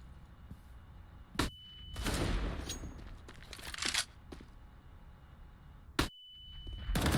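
Desert Eagle pistol shots in a professional Counter-Strike match ring out as a few sharp cracks spaced seconds apart, mixed with game sound effects and bursts of other gunfire.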